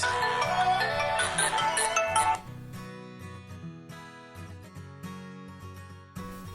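A Xiaomi Redmi S2 phone rings at full volume: a bright, tonal melody plays loudly for about two seconds, then continues more softly with sparse note bursts, with faint talk in the background.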